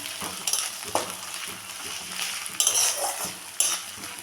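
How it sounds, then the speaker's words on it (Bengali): Ginger and garlic paste frying in a pan for a soybean and egg curry, a steady sizzle broken by several sharp metal spoon scrapes and clinks against the pan, close and fairly loud, with no talking. "দিয়ে দিলাম হাফ চামচ আদা বাটা হাফ চামচ রসুন বাটা একটু ভেজে নেব"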